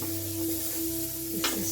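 Spices browning in a pan with cumin, a faint steady sizzle under a low hum, with a brief stir or scrape near the end.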